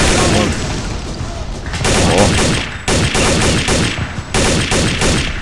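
Rapid bursts of automatic gunfire from the video game Counter-Strike Zero fill the scene, loud and repeated in several volleys with short gaps, while a player talks over the shooting.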